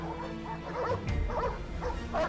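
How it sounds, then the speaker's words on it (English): Several dogs bark in short bursts, fairly close, with whimpering yips between, over a dense background noise. "There were dogs barking menacingly"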